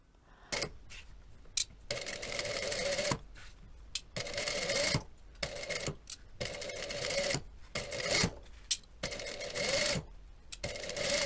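Sewing machine stitching the lining of a leather garment runs in repeated bursts of fast mechanical whirring, each lasting a second or so and separated by short pauses, close and clear with no talking.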